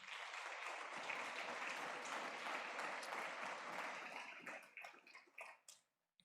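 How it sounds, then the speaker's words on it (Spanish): A church congregation claps loudly and steadily for several seconds, a dense wash of applause that thins out into a few scattered claps and stops. "Denle un fuerte aplauso al Rey."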